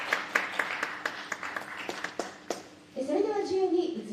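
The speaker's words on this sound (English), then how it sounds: "Let's give them a big round of applause." Applause fills the hall at a marathon awards ceremony in Tokyo, a steady patter of clapping under an announcer's voice, then swelling louder near the end.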